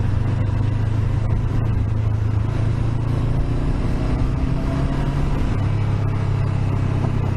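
A Honda CB500X motorcycle engine rumbles at low speed on a valley road, giving a steady, close, throaty drone under constant wind buffeting.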